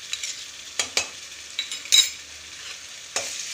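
Ginger garlic paste sautéed with onion in a pan, a gentle sizzle under repeated close spatula strokes and scrapes, one sharper metallic clink midway.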